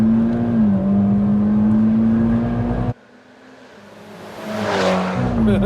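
A 440bhp Mitsubishi Evo X FQ-440, one of 40 built, pulls hard under acceleration with a steady rising engine drone, cuts out abruptly on a gear change, then builds again with a surging roar.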